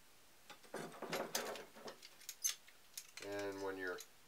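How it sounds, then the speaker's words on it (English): A hand tap cutting threads into aluminum for a bracket, heard as faint, close clicks and grinding creaks of metal working back and forth, ending in a brief squeaky drawn-out turn. "when you're tapping aluminum like this, you have to work it a little bit until it starts to turn freely"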